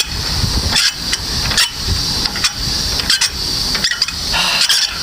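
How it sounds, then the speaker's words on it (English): Trucks move around a Pennsylvania truck yard, a steady engine rumble and hiss running through the whole stretch with recurring brief bursts, sounding fairly close and with no talk over it. "I got other trucks going behind me."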